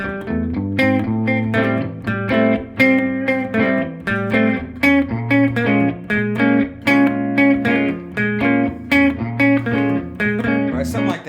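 An electric guitar plays a repeating riff of plucked notes over a steady low line, lightly distorted, continuous and fairly loud for about eleven seconds.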